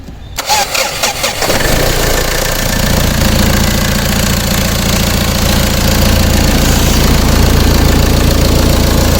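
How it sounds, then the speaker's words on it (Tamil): An old car engine cranks and catches, then settles into a loud, steady, slightly knocking idle that continues throughout. "வண்டியோட இன்ஜின் சவுண்டை பற்றி நான் கேட்போம்"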